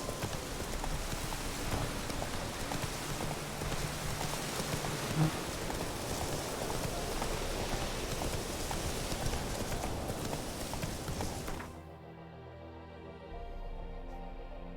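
Roach, a horse in The Witcher: Wild Hunt, gallops with a steady run of hoofbeats under falling rain, fairly quiet, then the sound cuts off abruptly near the end.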